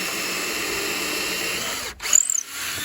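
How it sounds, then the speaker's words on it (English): A power drill boring a hole, as an alternative to a countersink bit, whirs steadily and close up for about two seconds, then cuts out, followed by a few short clicks and a brief whine as it winds down. "you could drill a hole"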